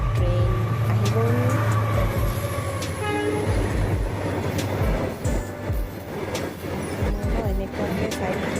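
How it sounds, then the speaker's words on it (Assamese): A train pulls into a station, its loud rumble and clanking wagons rolling close by with a few horn blasts. "ফাইনেলি ট্ৰেইন আহি গ'ল।"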